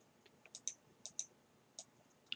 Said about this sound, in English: Open that folder by double-clicking on it